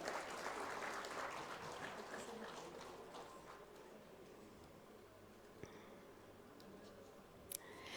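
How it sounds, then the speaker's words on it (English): Faint, distant applause rises at a medical awards ceremony for gynaecology and gradually tapers off, leaving a few scattered claps and soft room noise. "A big round of applause for Dr."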